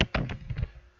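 A short run of keystrokes on a computer keyboard, several close, distinct taps in quick uneven succession.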